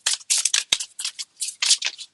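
Tarot cards are shuffled up close in quick, crisp riffling bursts, about a dozen short papery flutters in an uneven rhythm with no talking.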